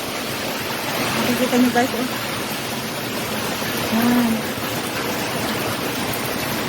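Strong typhoon wind roaring as a dense, constant rushing noise, loud and unbroken, with someone talking briefly over it.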